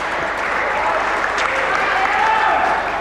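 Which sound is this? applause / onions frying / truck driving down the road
applause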